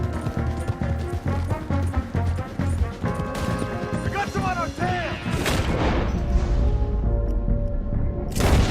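Gunshots from a Red Dead Redemption 2 shootout crack and echo in irregular bursts, with heavier booms and clattering, layered over game music and ambient noise.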